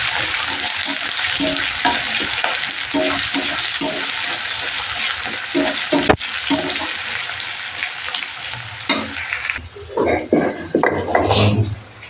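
Ground garam masala being sautéed in a pan, heard as a loud continuous sizzle with stirring scrapes, then near the end the frying drops back and water-like splashing and clatter come forward.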